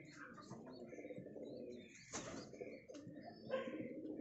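Pigeon cooing, a second bird of a prized high-flying breed kept by a fancier, with soft low coos recurring close by among chirps and a brief flutter, no talk.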